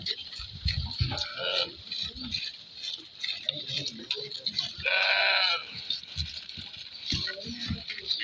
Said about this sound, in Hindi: जी बकरियां यहाँ पे खाना खा रही हैं,